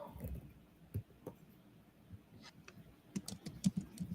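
Soft keyboard typing during a data visualization class: faint, scattered clicks on a computer keyboard, sparse at first, then a small cluster of taps near the end against quiet room noise.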